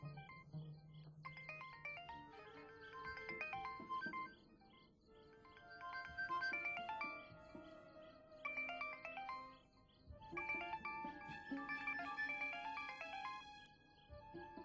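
A mobile phone ringtone plays a bright, repeating electronic melody in several phrases with brief pauses between them, clear and fairly close in an otherwise quiet room.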